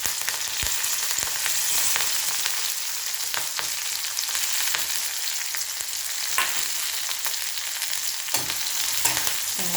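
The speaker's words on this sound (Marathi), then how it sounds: "तापलेल्या तेलामध्ये मी कांदा टाकून घेते कढीपत्ता पण टाकते" Onion and curry leaves fry in hot oil in a kadhai, giving a steady, dense sizzle with occasional stirring scrapes and crackles, close up and without talk.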